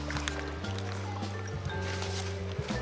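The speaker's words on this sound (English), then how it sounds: "you soak the paper in this water in this way" Newspaper sheets are soaked in water for papier-mâché, giving soft sloshing, dripping and trickling sounds nearby under a steady low hum, with no speech.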